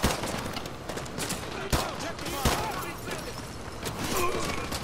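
Gunshots from Call of Duty: Modern Warfare 2 crack out as a few sharp reports and scattered fire, partly under voices and game chatter.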